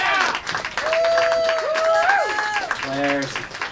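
An audience at a punk show at Vanguard Arts Center in Northern Virginia claps and cheers while a voice shouts loudly over the crowd noise.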